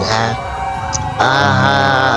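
A loud wailing fire truck siren with harmonic tones sounds close by, shifting pitch and intensity midway as the truck passes on its way to a fire.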